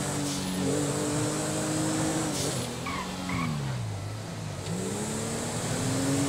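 A car engine hums and revs up and down in smooth pitch swells, close by, over a steady roar of road and tire noise.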